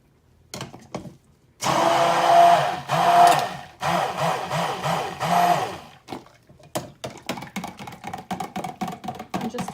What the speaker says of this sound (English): Let me clean my stick blender just a bit.